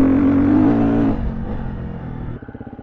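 A 2021 Gas Gas EC 350F dirt bike with an EXC-style muffler runs loud and close, its revs holding high before dropping to a lower rumble that ends in quick rhythmic pulsing, with no talking.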